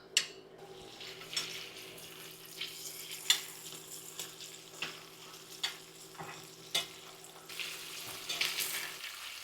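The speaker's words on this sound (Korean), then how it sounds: "아까 마리네이트 해둔 폴포를 넣겠습니다." Marinated octopus (polpo) in a frying pan gives off a soft, steady sizzle, broken by gentle stirring scrapes and taps at regular intervals, with faint water sounds in a quiet kitchen.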